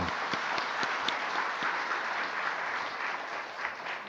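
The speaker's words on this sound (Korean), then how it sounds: "우리 수고했다고 감사의 박수 한번 드리십시오" A church congregation applauds in thanks for volunteers' flower decorations, a broad, even patter of many hands with a few sharper claps standing out, moderately loud and continuous.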